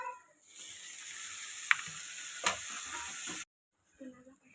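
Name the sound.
sautéing onion and garlic paste in a pan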